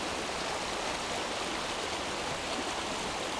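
A river flows steadily beside a seated person on a rainy day, a dense, continuous rushing wash close by, with no other sounds standing out.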